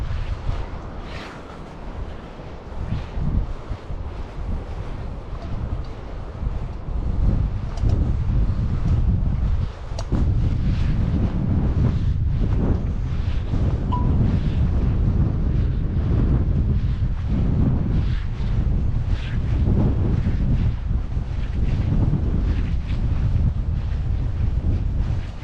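Strong coastal wind buffets the microphone at Blyth near Cresswell, a loud continuous roar with gusting swells and no speech.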